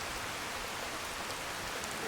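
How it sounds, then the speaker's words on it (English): Steady rain falls on a stone road in a rainy forest town in Skyrim, making an even, unbroken hiss of many small drops that holds at one level throughout, with no voice. "You can hear the rain hitting the stone on the road"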